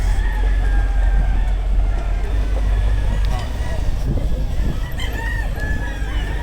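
Gamecocks belonging to cockfighting breeders in San Benito, Lipa City, crowing and clucking in a busy yard. Several birds sound off over steady low rumble and background noise, with people talking nearby.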